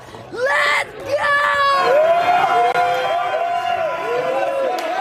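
Bar crowd at My Way Tavern cheering Duke's 100-93 Sweet 16 win over Arizona: loud, continuous yelling, whooping and shouted voices fill the room without a break.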